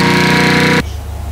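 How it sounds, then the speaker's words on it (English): A mulching lawn mower's motor runs as a loud, steady buzzing drone, then cuts suddenly to a quieter low hum after about a second. "But anyway, the motor's running."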